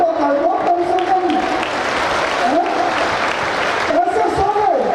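An audience claps steadily to welcome Maharaj ji at a live satsang discourse at Javli Dham, with close voices speaking over the applause throughout.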